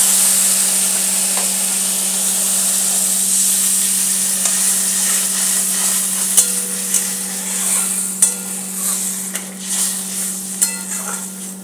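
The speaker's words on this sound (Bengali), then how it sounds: "দেখুন বন্ধুরা এটা ফুট লেগে গেছে" Water for fuluri in a pan on the stove, bubbling and simmering with a steady hiss, with occasional clinks and scrapes of a utensil against the pan.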